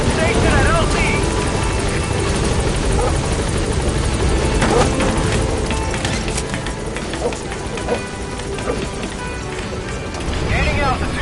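B-Quad support helicopter arriving at a landing zone in Metal Gear Solid V: The Phantom Pain, a loud, continuous rotor roar and engine whine that stays close and heavy throughout.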